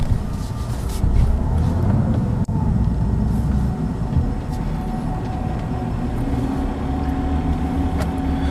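A 2014 Lexus IS350 F Sport's 3.5-litre V6 hums low and steady from inside the cabin while waiting to merge onto a road, mixed with broad road and traffic rumble and a brief sharp knock partway through.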